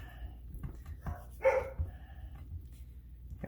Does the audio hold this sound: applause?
no